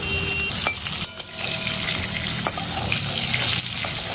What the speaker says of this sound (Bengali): তেলের মধ্যে এখন আমি আলুগুলো সব ভালো করে ভেজে নেব।